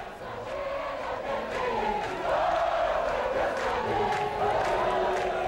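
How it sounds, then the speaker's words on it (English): Dozens of Haitians fill a downtown Port-au-Prince street outside a hotel, singing, clapping and dancing together; a dense, steady crowd roar of voices carries throughout, swelling slightly midway, with no single speaker standing out. "Dozens of Haitians flooded the streets outside the hotel where our staff is staying in downtown Port-au-Prince, singing, clapping, and dancing"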